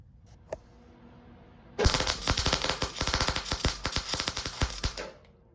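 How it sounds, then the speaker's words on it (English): Welding a quarter stick shifter for a Camaro: a close, dense crackling sputter with rapid irregular pops starts abruptly, runs steadily for about three seconds, then cuts off. "I gotta finish welding it up"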